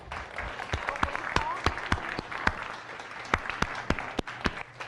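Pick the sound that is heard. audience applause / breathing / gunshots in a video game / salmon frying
audience applause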